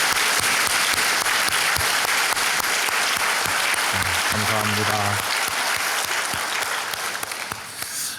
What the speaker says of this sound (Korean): 모두 다 환영하는 박수를 한번 하겠습니다